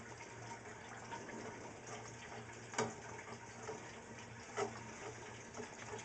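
Water and debris are drawn through a siphon from an aquarium tank in a faint, continuous trickle and gurgle, with a low hum beneath and two brief sloshing surges.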